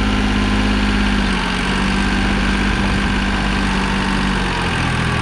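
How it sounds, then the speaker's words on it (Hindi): A New Holland 3630 diesel tractor fitted with an 8-foot rotavator runs at a loud, steady idle, its heavy low throb and vibration continuous and close, with no other sounds. "36 पर ट्रैक्टर स्टार्ट होया भाई।"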